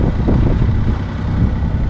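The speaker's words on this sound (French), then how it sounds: "un peu de vent." Steady, blustery wind buffets the microphone aboard a sailboat under two hoisted sails off the Balearic Islands, a continuous low roar with no pauses and no voices.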